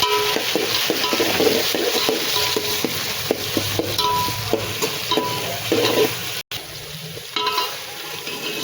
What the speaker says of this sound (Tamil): தக்காளி போட்டு நல்லா வதங்கட்டும்